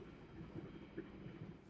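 Sangkuriang passenger train in Indonesia running along the line, a quiet steady rumble with soft rhythmic wheel knocks heard from inside, no talking.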